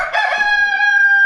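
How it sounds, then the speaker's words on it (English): A young rooster crowing in a barn, a single loud, close, drawn-out crow with a clear harmonic tone. "So we've got some teenage roosters, as I've heard them referred to."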